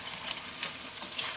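Fish is mixed in a pan for a fish pickle, with a few soft, quiet stirring scrapes over a faint background sizzle.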